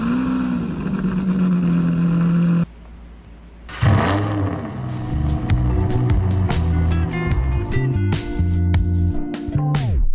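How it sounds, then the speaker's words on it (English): Lamborghini engine sound effects layered over a promotional reel: a loud revving car engine, a brief drop to quieter ambience, then a roaring surge with rising tones and sharp clicks, music-like and dense throughout. "I even added some Lambo sound effects when I pressed the button."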